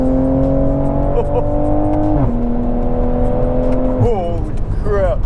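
A 530whp Toyota Supra MK5 launches hard with its tires spinning. The engine roars loud and close, climbing in pitch, dropping at a gear shift, then surging again with rising tones.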